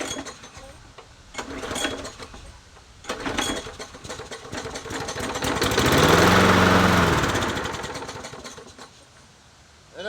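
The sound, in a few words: push mower gasoline engine running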